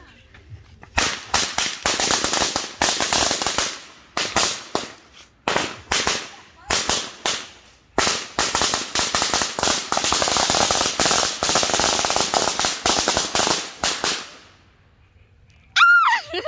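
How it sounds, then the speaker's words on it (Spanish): Firecrackers and rockets set off at a neighborhood celebration, loud, close, rapid strings of sharp crackling bangs that come in bursts with brief gaps, ending in a whistling rocket. "aquí vamos a finalizar el video con los cohetes"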